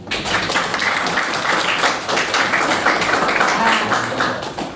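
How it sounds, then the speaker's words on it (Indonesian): A school class breaks into applause in a classroom, a dense, loud wash of clapping that holds steady for several seconds without talk. "Bagus, tepuk tangan dulu."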